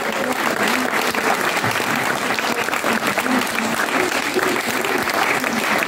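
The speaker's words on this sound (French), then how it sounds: "il faut les applaudir" Loud, continuous applause from a crowd honoring a young jury at a contemporary music event's closing, dense clapping sustained evenly throughout with faint voices underneath.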